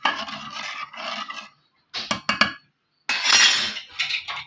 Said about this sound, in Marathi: याला छान फिरवून घ्यायचं